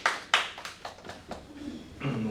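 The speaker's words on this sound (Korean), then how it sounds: "축하의 박수 하시겠습니다" Scattered, uneven hand claps from a church congregation at a Korean Sunday worship service, half a dozen sharp hits spread over a couple of seconds, with a voice starting up near the end.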